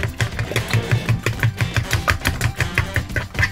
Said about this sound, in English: Here's how you whisk eggs.